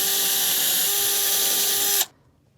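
A power drill whines at a steady high pitch while pre-drilling a nail hole for a stair spindle, running close and loud for about two seconds before cutting off abruptly.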